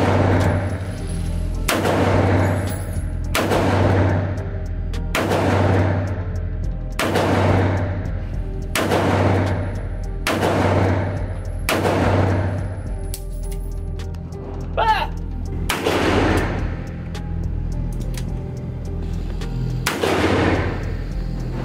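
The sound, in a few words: gunshots from a Smith & Wesson Performance Center 327 .357 Magnum revolver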